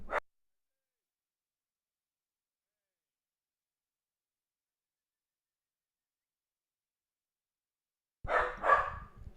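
A dog barks in two short, sharp bursts, one at the very start and another near the end, with a long stretch of silence between them.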